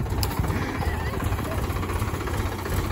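A tractor engine chugs while being driven in low gear, a close, rumbling, knocking drone that holds steady throughout.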